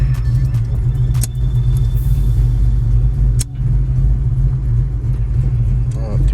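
A Ford Mustang Fox Body with transmission fluid at operating temperature drives through the gears, its loud low engine rumble droning close and steady, broken by short dips where shifts happen.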